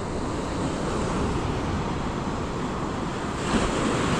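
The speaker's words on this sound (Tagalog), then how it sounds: "Lalaki ng alon." Big ocean waves crash and churn at Pacifica Rockaway Beach, a loud, continuous roar of surf mixed with wind buffeting the microphone, swelling slightly near the end with no voices.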